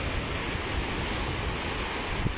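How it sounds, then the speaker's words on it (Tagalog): Strong habagat monsoon wind blowing at the seashore, a steady broadband roar mixed with surf washing in, loud and continuous without any pause. "Ayan ang nakakatakot po, hangin habagat."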